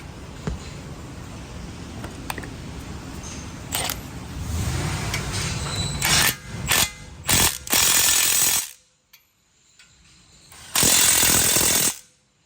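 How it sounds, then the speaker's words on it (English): A ratchet tightens the last caliper bracket bolt during a brake job: loud, close rasping clicks in bursts that stop abruptly, then resume in a final strong burst after a brief pause. "let's get that last bolt in right there"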